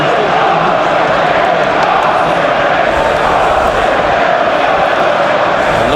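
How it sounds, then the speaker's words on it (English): Steady roar of a football crowd at a Newcastle United v Manchester City Premier League match, a dense continuous wash of thousands of voices filling the stadium for the full stretch, with no single voice standing out. "Crowd responding."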